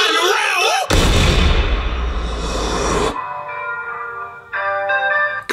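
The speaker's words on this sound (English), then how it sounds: "Transition into the next joint with the explosion" A loud explosion effect bursts in a rap music video, a sudden wideband boom and roaring rumble lasting about two seconds, followed by ringing tones and music.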